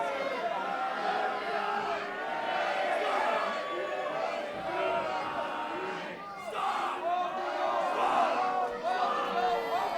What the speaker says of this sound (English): Listen to the crowd against 23 Hazard